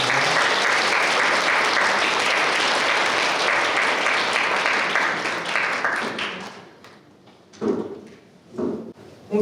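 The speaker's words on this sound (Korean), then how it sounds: "역시 큰 박수 부탁드립니다." An audience at a priest's book talk applauds heartily, a full round of clapping that fades out after several seconds, followed by brief bumps and handling noises.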